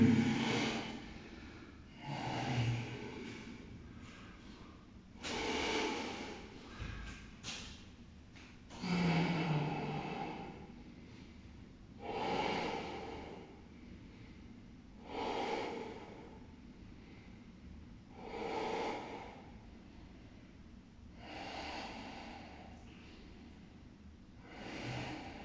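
Slow, steady breaths while a yoga balance pose is held, each long inhale and exhale rising and fading in a regular rhythm, close and soft, with no talking.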